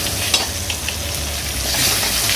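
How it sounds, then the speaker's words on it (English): Pieces of osso buco sear dry in a hot pan without any oil, producing a loud, close crackling sizzle with small pops and spatters. "And then you just want to saute it really, really quick."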